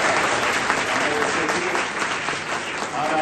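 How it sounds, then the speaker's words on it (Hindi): Loud, dense applause from a crowd at a youth voters' conference in the Bakshi Ka Talab assembly constituency, Lucknow, steady and sustained throughout. "जोरदार तालियां"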